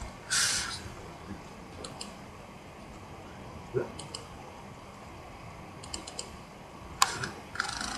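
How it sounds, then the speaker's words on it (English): Computer keyboard keys clicking loudly while the backlight is on, scattered sharp taps and bursts of clicks over a quiet room hiss, with no steady typing rhythm. "These keys click really loud when I'm using a built-in light"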